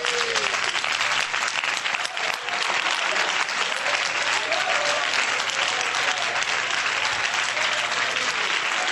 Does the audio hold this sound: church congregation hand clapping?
yes